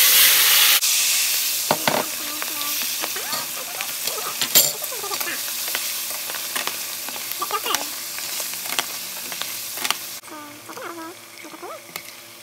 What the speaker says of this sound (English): I'm gonna get my veggies and I'm gonna toss them in here.